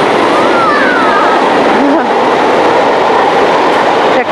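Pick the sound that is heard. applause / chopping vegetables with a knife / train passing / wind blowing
train passing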